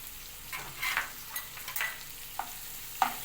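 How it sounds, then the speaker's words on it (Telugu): Ginger garlic paste cooking in a pan, a low sizzle with several short scraping strokes of stirring spaced through the clip, close but quiet, with no voices. "ఈ అల్లం వెల్లిపాయ పేస్ట్ మొత్తం ఇలా కొంచెం ఉడకనివ్వాలి"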